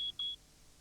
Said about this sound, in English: Wake up. Get a smoke alarm.